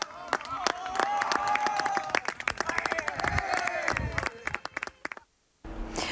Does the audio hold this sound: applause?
yes